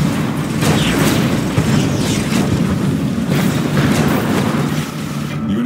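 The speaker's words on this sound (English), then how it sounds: "Tiberium explosion detected." Deep, rumbling Tiberium explosions in Command & Conquer 3: Kane's Wrath roll on continuously, with heavy booming bursts layered over a thick low roar.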